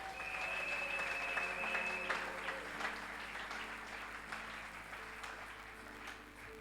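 A church congregation applauding during a worship service, a sustained, fairly distant wash of clapping that gradually fades, with a brief tonal whistle or feedback tone near the start and faint voices underneath.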